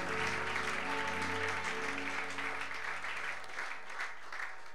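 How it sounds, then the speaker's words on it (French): A church congregation applauding at a Sunday worship service, a dense sustained wash of clapping from many hands with a steady drone or hum underneath, loud and continuous throughout. "Nous acclamons le Seigneur."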